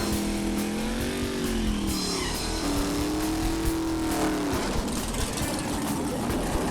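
A Chevelle drag car at a drag strip roars through a burnout, its engine revving and wavering in pitch with tire noise and crowd din around it, loud and sustained, with some talk underneath.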